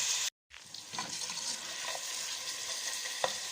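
Onions, tomatoes, green chilies, garlic and ginger fry in a pan, giving a steady close sizzle with occasional stirring scrapes and a brief cut to silence near the start.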